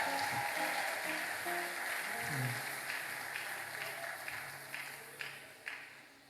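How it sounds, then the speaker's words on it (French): A church congregation at an ordination service applauds the interpreter, a loud burst of clapping that swells early and gradually thins out, with a few scattered claps near the end. "acclamez l'interprète"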